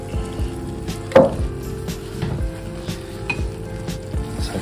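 Ham coated with fresh glaze from the pan, a continuous gentle sizzle with intermittent scraping and brush-like strokes and a few soft knocks of utensil against the pan, close and moderately loud.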